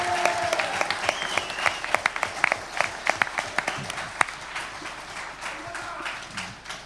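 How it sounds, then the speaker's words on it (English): Applause from an audience at a boxing press conference, a dense patter of many hands clapping with sharper individual claps standing out, steady through most of the stretch and easing slightly near the end. "Round of applause for Sean Masha Dodd"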